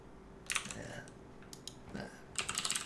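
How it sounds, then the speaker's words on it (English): Brisk computer keyboard typing comes in short close bursts of clicky keystrokes, with quiet gaps between them and a faint voice in the background. "Sick typing there."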